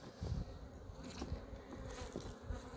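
Honeybees hum steadily on a hive frame holding stored provisions, a close, continuous buzz that rises and dips slightly as bees move across the comb.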